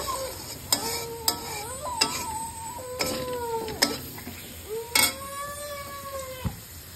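Spices with chilli powder and green chillies are stir-fried in a pan, with a steady sizzle broken by sharp, repeated scrapes and knocks of a spoon against the pan over several seconds, alone and fairly quiet.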